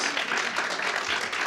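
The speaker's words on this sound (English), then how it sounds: "let's give another round of applause to all of our award recipients" Steady applause from an audience at a sickle cell awareness illumination ceremony, a dense continuous wash of many hands clapping for award recipients, fairly loud and close with no talking.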